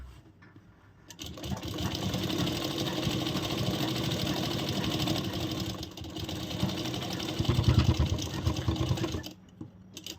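Sewing machine stitching elastic into a palazzo waistband, running in a steady continuous whir for about eight seconds, with a brief pause midway and a slight rise in speed near the end before it stops.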